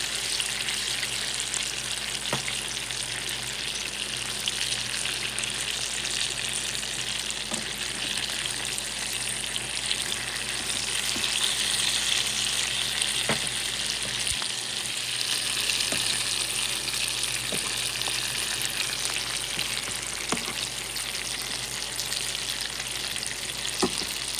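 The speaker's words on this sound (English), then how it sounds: "This side is a little bit browner than the other side, so I'm going to let the other side cook a little bit longer." A steak frying in a pan, a steady close sizzle that runs throughout with a few faint ticks and pops, no voices.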